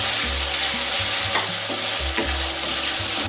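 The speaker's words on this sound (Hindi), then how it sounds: "अब इसमें मैं डाल दूंगी अदरक लहसुन पेस्ट," Ginger garlic paste fries with cauliflower in a hot pan, a steady close sizzle broken by repeated stirring scrapes of a spoon, with no talk.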